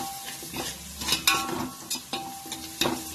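Garlic chili paste is stirred into hot oil in a frying pan for whole masoor dal, with a soft sizzle under repeated scraping spatula strokes and light clinks against the pan.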